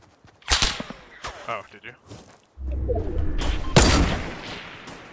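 Fortnite gunfire, several sharp bursts of shots and a sustained rattling volley near the end, mixed with players talking over one another.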